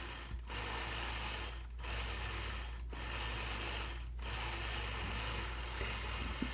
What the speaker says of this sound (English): just stitching those fun pointed fern feathers